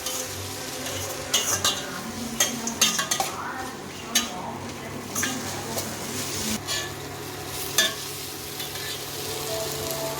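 Chana dal is sautéed in a pan, giving a soft frying sizzle under repeated scraping and clinking strokes of a metal spoon against the pan, spaced irregularly and close by.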